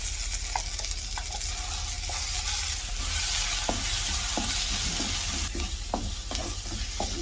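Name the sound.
sautéing mint chutney ingredients in a pan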